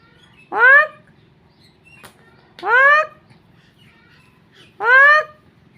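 Three loud, nasal goose honks spaced evenly about two seconds apart, close by, with a faint low background hum between calls.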